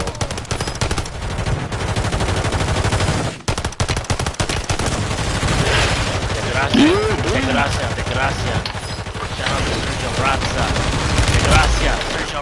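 Heavy gunfire crackles in Call of Duty Warzone (Modern Warfare III), loud, rapid machine-gun bursts and scattered shots running almost nonstop while players talk over the din.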